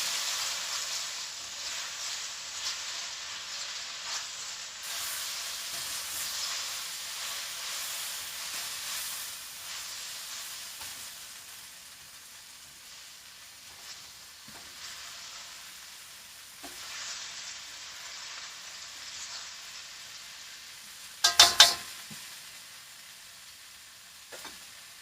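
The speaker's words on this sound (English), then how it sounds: "We're going to cut the heat down. Stir this for a minute." Food sizzles and frying in a pan on a stovetop for a shirtless cook, a steady broadband hiss running throughout with occasional stirring scrapes, a sharp clatter near the end, and no talking.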